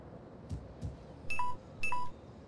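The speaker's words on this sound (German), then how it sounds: "Gut, dass das Handy mich erinnert." A mobile phone reminder alert sounds as two loud, short electronic tones, preceded by softer taps, with quiet background game sound.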